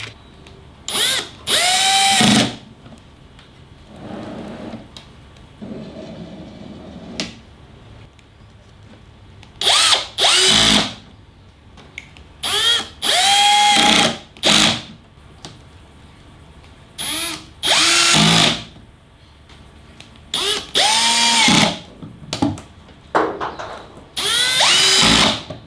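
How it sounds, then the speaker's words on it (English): A power drill drives screws into a DIY 4WD drawer system built with Kreg 720Pro pocket joints, in repeated short whirring bursts that rise in pitch, separated by pauses and quieter handling noise. "We're just going to start and just screwing this down now."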